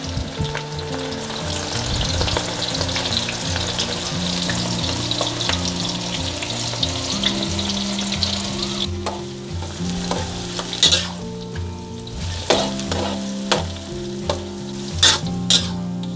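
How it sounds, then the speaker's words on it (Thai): Shallots deep-frying in hot oil give a loud, continuous bubbling sizzle, with bursts of spatula scraping and clinks toward the end, and no voices. "ต่อไปก็ทอดหอมแดงค่ะ"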